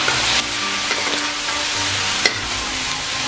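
Shrimp fried rice is stir-fried in a pan with dark soy sauce, a loud continuous sizzle broken by a few sharp spatula scrapes, heard alone without speech.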